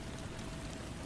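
Steady rain falling on a surface, a dense, even hiss with a soft low rumble underneath, unbroken and constant throughout.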